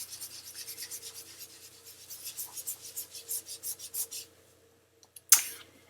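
Distress Oxide ink is blended onto paper laid over a scratch sheet, giving a quiet, steady run of rhythmic rubbing strokes that stop, followed after a short pause by one brief, sharper scrape.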